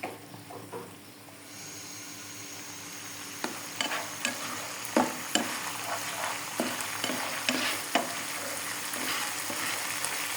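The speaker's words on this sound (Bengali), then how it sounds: "বাদাম বাটা এবং কাঁচা পাকা লঙ্কাগুলিকে আমি আবার এই পেঁয়াজ এবং রসুনের সাথে মিশিয়ে দিচ্ছি।" Nut paste and fresh green and ripe chillies stirred into onion and garlic frying in a pan for a rohu fish kalia, with a steady sizzle broken by repeated scraping strokes of the spoon, fairly close and alone.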